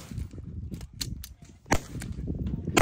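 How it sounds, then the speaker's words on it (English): Rifle shots ring out at a shooting competition stage, several sharp cracks of varying loudness, some distant and some nearer, scattered irregularly over a steady low outdoor rumble. "Ten total shots here with the rifle before now they are moving on to the pistol."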